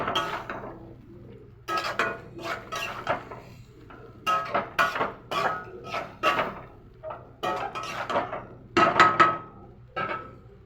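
A spoon stirs a pot of ghugni after a little water goes in, making a run of clattering scrapes and knocks against the metal in irregular bursts, close and moderately loud, with no talking.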